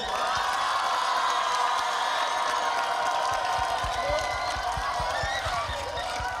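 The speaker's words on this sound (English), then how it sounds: "Please, can we give them a round of applause as well?" An outdoor crowd at a sunset carols concert claps and cheers for carol singers and a soloist, a dense sustained roar of applause with scattered whoops throughout.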